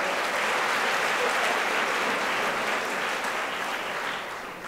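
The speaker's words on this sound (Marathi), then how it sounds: "त्या पोरींसाठी एकदा जोरदार टाळ्या होत्या" Loud, sustained applause from a large audience at a birthday felicitation ceremony in Maharashtra, dense and continuous throughout before easing slightly at the end, with no speech over it.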